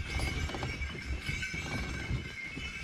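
Hooves of horses pulling a sleigh on a Michigan sleigh ride, a soft, continuous clip-clop with a low rumble underneath.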